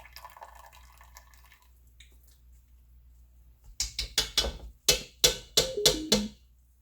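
Liquid drains from fresh cheese through cheesecloth in a small colander. After a quiet start, a close series of about ten distinct drips and splats falls in an uneven rhythm.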